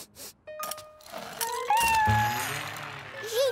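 A cartoon cat gives a few short, high meows over light background music and sound effects, close and clear amid brief character voices.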